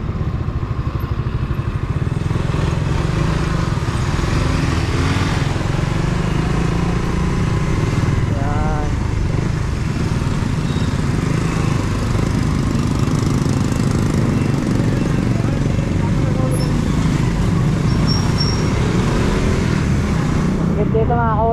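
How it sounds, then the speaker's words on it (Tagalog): Motorcycle engines drone loudly and continuously nearby, with rising and falling revs as bikes pass, over busy street noise and faint voices. "ang daming motor sa gilid oh"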